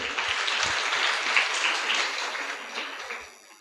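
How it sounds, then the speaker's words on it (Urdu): An audience at a religious lecture claps loudly and continuously after a correct quiz answer, a dense crowd applause that fades slightly toward the end. "زور سے تالیاں بجائیں بھائی"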